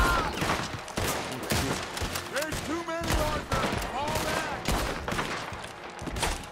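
Dense bursts of gunfire from a Western shootout in Red Dead Redemption 2, rapid overlapping shots throughout, with game voices and a player talking over the din.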